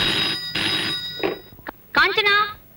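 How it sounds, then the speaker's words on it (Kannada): A telephone rings twice in short, bright bursts close by, then people start talking over quieter background sounds. "ನಿನಗ್ ಫೋನ್."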